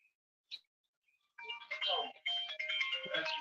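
A phone ringtone starts up after a few faint clicks, a bright melodic electronic tune chiming in close with brief pauses between phrases.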